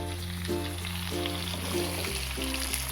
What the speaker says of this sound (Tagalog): We'll fry that for around 1 to 2 minutes again.